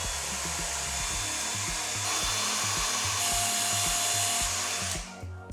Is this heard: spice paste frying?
no